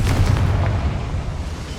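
Confringo fire spell going off in Hogwarts Legacy inside a small mine, a deep booming explosion with a rumbling tail that fills the short moment.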